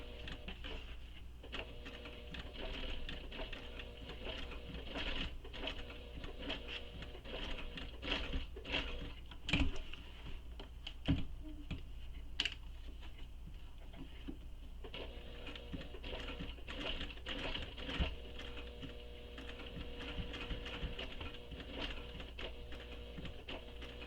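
Domestic sewing machine stitching slowly around the curved edges of a tote bag, a steady mechanical whir with short pauses and restarts, close and continuous with no talking.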